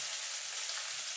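Chopped medium onion sizzles in hot oil in a pan, a dense, steady frying hiss with crackle, close and continuous with no talk.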